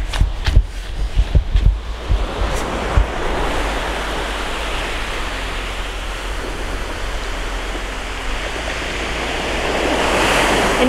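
Ocean waves wash onto a beach in Orange County, a steady broad surf hiss with a slight swell toward the end, opened by a few sharp handling bumps near the microphone.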